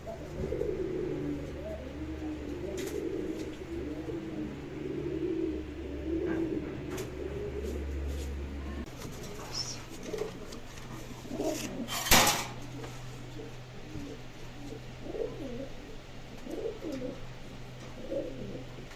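Pigeons of fancy breeds coo from their cages in a low, repeated rolling murmur that runs through the scene, with scattered metallic clinks and one sharp bright knock near the middle.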